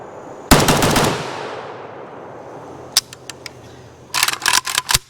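Rapid bursts of gunfire from an AK74-pattern WBP Jack rifle in 5.45x39, a long loud burst near the start, a few spaced single shots midway, then another quick cluster of shots at the end.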